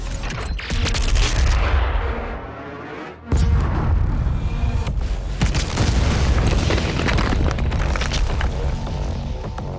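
Weapon fire in a Doom Eternal video game cutscene. A dense, loud, continuous roar of blasts and booms drops briefly before a sharp burst, then continues as heavy rumbling explosions with no speech over it.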